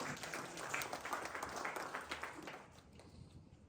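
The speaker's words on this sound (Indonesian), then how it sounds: "Tepuk tangan untuk Tuhan." A church congregation at a worship service claps for God, a faint, distant patter of many hands that swells briefly and then fades away.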